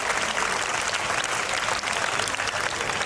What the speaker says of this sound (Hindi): के लिए जोरदार तालियां हो जाए।